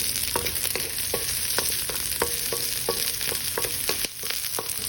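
Onion sautéing in a pan for sarciadong pechay, a steady loud sizzle with repeated light stirring scrapes ticking through it, close and continuous without talk.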